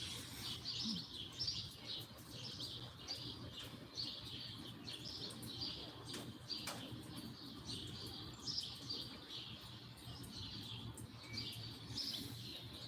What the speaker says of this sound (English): The birds are definitely waking up around here.